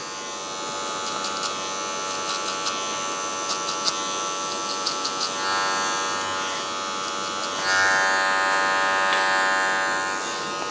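Electric hair clippers buzz continuously throughout a skin fade haircut, a close steady drone with small bursts of tonal ticking and a louder stretch near the end, with no talk.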